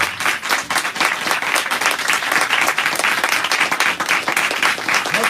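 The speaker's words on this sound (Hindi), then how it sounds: "रूह कुदस के लिए जोरदार तालियां बजाकर खुदा के नाम को बुलाएं" Loud, dense applause from a church congregation during a Hindi-Urdu sermon, many hands clapping vigorously and continuously without pause.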